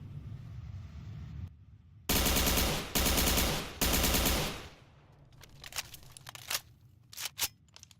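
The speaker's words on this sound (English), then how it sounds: "But if you shoot, it'll shoot." Weapon fire in Garry's Mod from a TFA Base gun: three loud bursts of rapid automatic shots, close and harsh, followed by softer clicks and clatter of handling noises.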